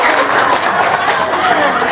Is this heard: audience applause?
yes